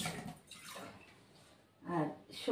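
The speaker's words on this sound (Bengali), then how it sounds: "আর জল দিয়ে দিলাম অল্প।" A little water is poured from close by into black and white mustard seeds while a rui fish dish is prepared, a soft liquid splash in two short bursts with someone talking over it.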